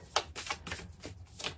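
A tarot card deck is riffled and shuffled by hand in a few quick, close bursts of papery flutter, with no talking.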